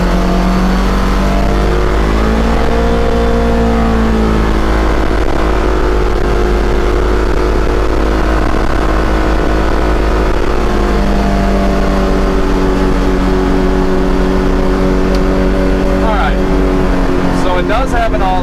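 Loud, droning engine noise inside the cab of a Polaris Xpedition side-by-side while driving, a steady low rumble with shifting pitch as it accelerates, and people talking over it.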